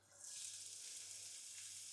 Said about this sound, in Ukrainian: На сковорідочку трішки олійки, цибулька подрібнена.